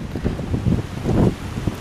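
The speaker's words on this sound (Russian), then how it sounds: "Ветрован такой вообще." Strong gusty wind buffeting the microphone on a rainy city beach in Spain, rough rumbling surges with nobody speaking.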